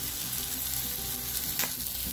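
A veggie burger fries in oil on a camping stove outdoors, giving a short, steady, dense sizzle with a faint stir near the end.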